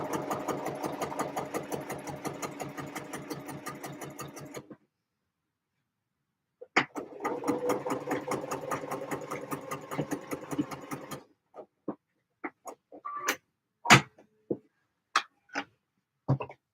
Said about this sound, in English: that's one front panel sewn on